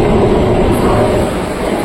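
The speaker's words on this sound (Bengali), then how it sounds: "ট্রেন অলরেডি দাঁড়িয়েই রয়েছে।" Hool Express, the Howrah–Suri Express, standing at a station platform, giving a steady loud low rumble of idling train and platform ambience with no clear movement, continuous and close, with no talk.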